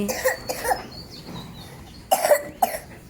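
A child coughs several times in short harsh bursts, one cluster early and another near the end, close to the listener.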